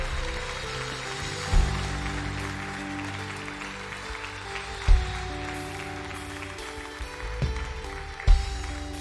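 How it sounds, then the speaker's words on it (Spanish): A church congregation applauds during a sermon service, a steady, fairly distant wash of clapping with a few louder thumps standing out. "Levántale un fuerte aplauso al Señor."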